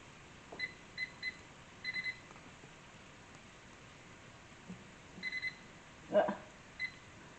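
Short electronic beeps in small clusters, quiet and intermittent, as buttons are pressed to set a kitchen timer, with some faint handling noise.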